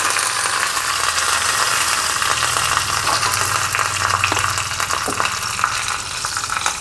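Steady, loud sizzling of fenugreek seeds, dried red chillies and curry leaves hitting hot oil for sambar tempering, with continuous hiss and scattered crackles and pops throughout.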